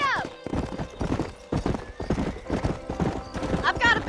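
Horses gallop in Red Dead Redemption, with steady clip-clopping hooves and a whinny near the end, all under voices talking.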